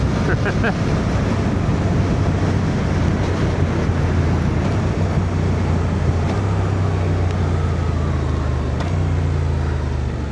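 Strong side wind buffeting a rider on a Suzuki GSX 8R motorcycle: a loud, steady roar of wind rushing over the microphone, with a low engine and road drone underneath, lasting the whole stretch without a break.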